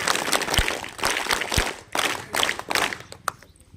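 Scattered clapping from a small group, irregular claps in short bursts with gaps, fairly close and without voices.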